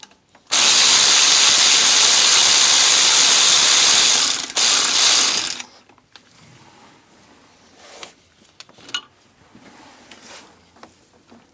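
A ratchet loosens a bolt on a Subaru WRX engine during timing belt work. Loud, close, rapid ratcheting clicks run for about five seconds, then stop, leaving quiet room tone with a few faint clicks.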